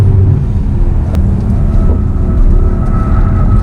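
A loud, steady Mercedes-Benz 4-litre twin-turbo V8 engine roar on a racetrack, deep and rumbling, continuing without pause with faint road noise.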